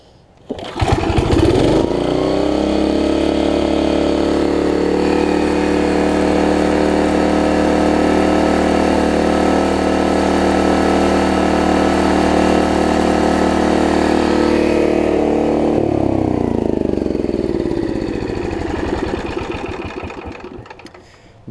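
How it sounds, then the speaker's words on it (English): A Snapper RER riding mower's engine, with a broken governor and water in the fuel, drones loud and steady after a pull start, then winds down near the end. "on initial startup, it seems like it's running pretty good. And I'll show you, I can even pull start it."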